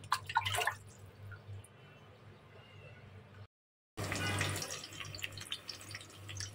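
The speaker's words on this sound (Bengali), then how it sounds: "আমি তাহলে চিকেনগুলো ওয়াশ করে নিই" Raw chicken pieces are rinsed under running water, with a soft steady trickle and a few louder splashes at the start and again after a short break, close and quiet, with no talking.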